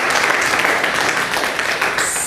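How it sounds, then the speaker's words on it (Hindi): Audience applause at a franchise event welcoming the company chairperson, a steady dense patter of clapping throughout, fairly loud and close with no talk over it. "सबसे पहले जोरदार तालियों के साथ उनका स्वागत करते हैं।"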